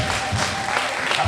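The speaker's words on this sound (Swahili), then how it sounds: "Pigeni basi makofi." Applause from the audience at an album launch event, brief dense clapping close by, with a slight murmur of voices mixed in.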